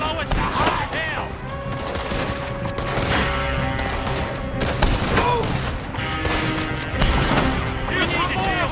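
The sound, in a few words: gunfire in Red Dead Redemption 2 video game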